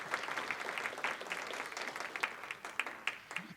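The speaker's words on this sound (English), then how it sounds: "you can give them a round of applause." An audience claps in sustained applause at a city State of the City address in Alameda, a dense, steady patter of many hands with a few sharper claps standing out, moderately distant and without talk.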